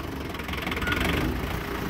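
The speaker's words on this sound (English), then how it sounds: "now you can hear that the equipment is going. So now that it's going at idle" A farm tractor engine idling close by, a steady rumbling chug that holds constant and fairly loud, with no voices over it.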